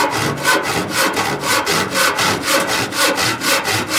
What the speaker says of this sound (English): I'm going to cut this one to the width.